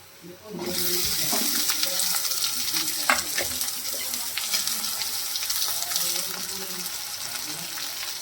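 Okra dropped into hot oil in a pan sizzles and fries steadily, a loud continuous crackle with scattered pops and some stirring clatter close by.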